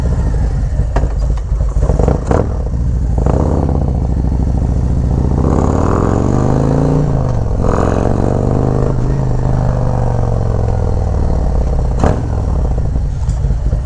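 A motorcycle fitted with a Khrome Werks Dominator 2-into-1 exhaust and a 465 cam runs loud and close from the rider's position, a raspy rumbling engine rising and falling in revs with brief clattery bursts.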